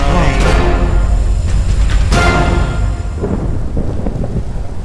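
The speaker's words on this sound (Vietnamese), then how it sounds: "Cơn mưa cũng dừng lại luôn rồi." Rain and thunder from the Minecraft video game: a steady, dense downpour with loud thunder cracks and rumbles near the start, continuing as a constant wash.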